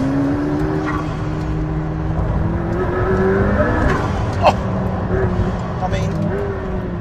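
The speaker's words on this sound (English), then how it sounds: "here is just a little burst of what it feels like to slightly nail it in a McLaren P1 over a beautiful Welsh mountain road" McLaren P1 accelerating hard on a Welsh mountain road, a loud rising engine roar heard from inside the car, with a short excited exclamation from the driver.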